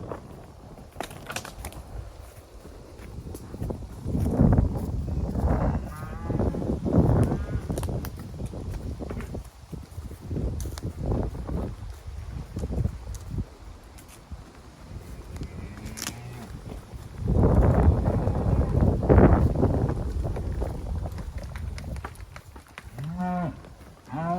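Cattle moo repeatedly, some calls near and some farther off, as cows are pushed toward a holding pasture during a fall gather on Utah's Bears Ears. Voices talk intermittently among the bawling herd.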